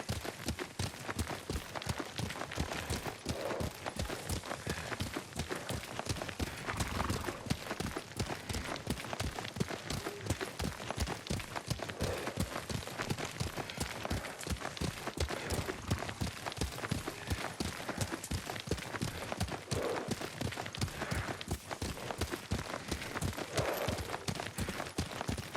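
A horse gallops in the video game Ghost of Tsushima, its hooves beating a fast, steady rhythm throughout at moderate loudness, with no voices over it.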